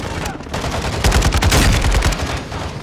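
Light machine gun fire in the video game Modern Warfare 2 plays as a dense, continuous rattle of rapid shots, loudest in the middle and mixed with in-game battle noise.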